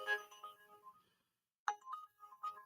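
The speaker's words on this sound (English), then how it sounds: "that's my notifications for Uber" A phone chimes with Uber app notification alerts: a bright ringtone-like jingle fades out, then after a short silence a second chime pattern starts, close and moderately loud, with no speech.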